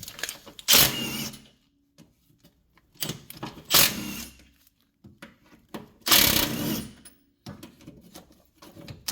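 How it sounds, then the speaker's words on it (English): A ratchet wrench with an 18mm socket works loose the bolts on a work Jeep's steering box, sounding as three sharp bursts of clattering ratcheting separated by quieter clicks and shuffling handling noises. "I'm using an 18mm to remove these 4 bolts."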